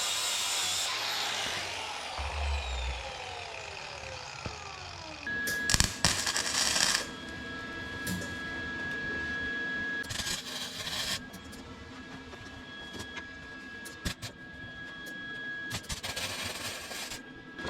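Grinder running over painted steel on a Bobcat T650 quick-attach hydraulic cylinder, a harsh abrasive rasp with a high whine, coming in several bursts separated by quieter pauses, close by.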